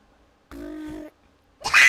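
A voice imitates a brrr sound in one short, buzzing, half-second burst, followed after a pause by a brief loud noisy blast.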